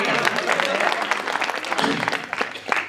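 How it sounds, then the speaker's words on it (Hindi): Audience at a Hindi kavi sammelan poetry recital clapping in a dense, continuous burst for about three seconds, the applause loud and close with a brief voice rising through it near the end. "ताली बजाओ यार"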